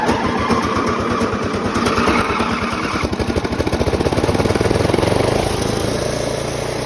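A Snapper riding lawnmower with a Briggs & Stratton engine cranks and catches, then the engine's rhythmic putter builds into a loud, close, steady running chug.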